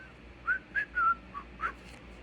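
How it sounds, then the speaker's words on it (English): A man whistles a short tune while waiting, five brief clear notes spaced unevenly over a quiet background, close and alone with no talk. "he don't have anything to say, so he starts whistling"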